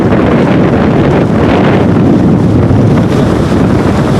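Stormy sea at Keerimalai, with waves surging and crashing under a heavy, constant roar of wind buffeting the microphone, loud and continuous throughout.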